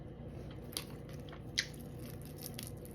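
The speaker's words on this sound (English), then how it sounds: "And the skin is nice and crunchy." Someone chews and bites into crunchy fish skin during a meal, with two brief crisp crunches over a quiet, steady background and no talk.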